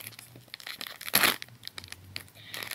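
A small snack packet torn open by hand, with light crinkling of the plastic, then one sharp loud rip in the middle, followed by softer rustling and handling close by.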